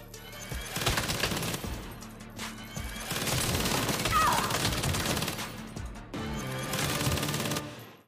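Minigun gunfire in a video game, loud continuous buzzing bursts of rapid shots in several long stretches with brief gaps between them.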